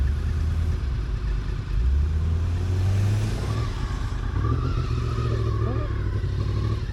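A motorbike and a white car reversing in a car park, with a steady low engine rumble running through the whole stretch at moderate loudness.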